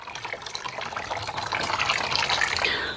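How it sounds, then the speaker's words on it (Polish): Boiled water poured from a jug into a seedling tray for tomato seedlings, a steady close splashing, trickling flow that builds slightly in strength and runs for about three seconds. "Przyniosłam sobie po prostu zagotowanej wody w dzbanku, żeby dolać."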